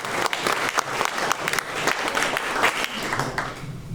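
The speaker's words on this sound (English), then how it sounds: "So please give him a round of applause." An audience applauds a firefighter being honoured at a public event. Steady, dense clapping fills the room throughout and stays fairly loud and even.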